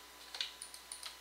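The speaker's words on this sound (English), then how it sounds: "Excuse the keyboard, I'm on a 1999 keyboard and it sucks ass." Faint, sparse key clicks from an old 1999 computer keyboard, a handful of light taps spread across a short stretch with quiet gaps between them.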